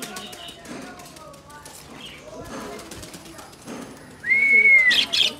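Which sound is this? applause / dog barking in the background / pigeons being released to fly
pigeons being released to fly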